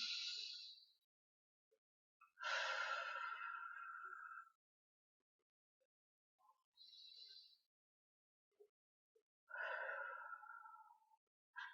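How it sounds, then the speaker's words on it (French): Slow, deep breaths in and out during a belly-breathing exercise, the belly swelling on each inhale and deflating on the exhale, close and soft, as airy sighs separated by quiet pauses. "J'inspire, le ventre se gonfle, j'expire"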